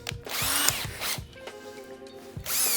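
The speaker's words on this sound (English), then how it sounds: "Let's get it in the drill." A power drill whirs in short bursts, revving up and down as it bores into wood, close and fairly loud.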